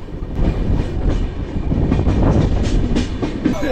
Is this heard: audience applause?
no